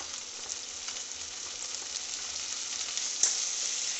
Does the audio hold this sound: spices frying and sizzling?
yes